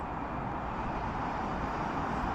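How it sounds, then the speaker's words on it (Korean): An airplane passes overhead above a wide open plain, a steady broadband roar held at even loudness throughout with no voices. "저기 비행기 간다"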